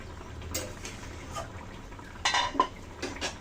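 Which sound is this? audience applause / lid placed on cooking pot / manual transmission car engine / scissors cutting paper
lid placed on cooking pot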